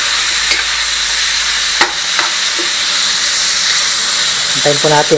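Pinakbet ingredients sauté in a pan until golden brown, giving a continuous hiss and sizzle with a few stirring knocks. A voice speaks briefly near the end.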